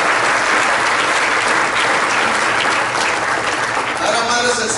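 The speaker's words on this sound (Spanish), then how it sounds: "Denle el aplauso a Cristo y se lo va a dar con más." Church congregation at a Spanish-language service in Apopka, Florida breaks into loud, sustained applause, a dense wash of clapping that fills the whole stretch without pause.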